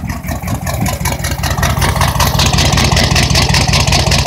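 A 1986 Chevy K20 with a 6.2 diesel and a suspected blown head gasket runs close and loud, its rough, lumpy idle pulsing in an uneven rhythm with no talking over it.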